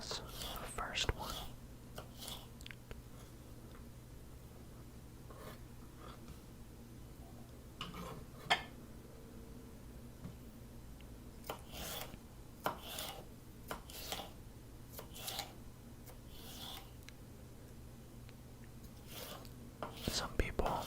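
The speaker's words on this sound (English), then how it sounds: "let's cut up this red pepper, same as the first one" A knife chopping a red pepper on a cutting board while chili is being cooked, giving soft, scattered taps and slices, close and quiet, under a low whispering voice.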